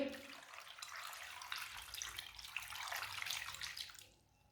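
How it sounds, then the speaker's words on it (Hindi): Water is poured from glasses into a pot of cut potatoes, a steady splashing gush that holds for about four seconds before stopping abruptly, quiet and close with no voices. "3 गिलास पानी डाल लेंगे।"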